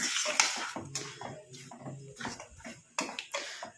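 A spoon scrapes and clacks through a thick mixture in a pan on a stove that has been switched off, in a string of irregular close strokes with short pauses between them.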